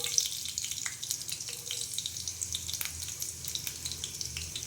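Garlic fries in hot oil in a kadhai with a soft, steady sizzle and scattered small crackles, fairly faint and alone without talk.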